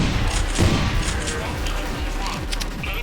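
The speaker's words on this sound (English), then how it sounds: "There's a whole bunch of gunfire being exchanged between the saboteurs and the government forces" Dense video-game gunfire between saboteurs and government forces, a rumbling stream of rapid shots and low booms, continuous and busy, with a player's voice talking over part of it.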